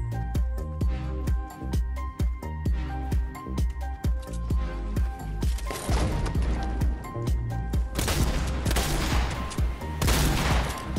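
Rapid gunfire from the video game Fortnite, a fast run of sharp shots that thickens into dense, loud bursts of automatic fire with crashing impacts, no talk over it.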